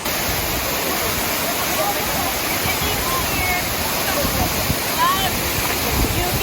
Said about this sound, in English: A steaming waterfall,